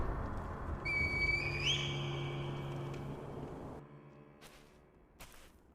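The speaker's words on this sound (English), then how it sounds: "Call the divine ear with the reed whistle." A reed whistle in the video game The Talos Principle gives a clear, sustained tone that slides upward in pitch near its end, playing alone over a soft game ambience.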